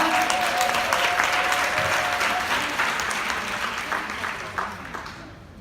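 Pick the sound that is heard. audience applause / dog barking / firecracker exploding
audience applause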